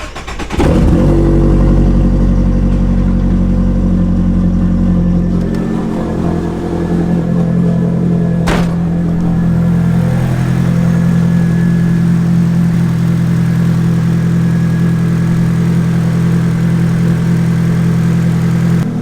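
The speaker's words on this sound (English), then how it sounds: "Let's take off the steering wheel. And start this baby up." A Nissan S13 with an SR20DET engine cranks and fires, briefly revving before settling into a steady, loud, close idle with a deep, even rumble and a faint click partway through.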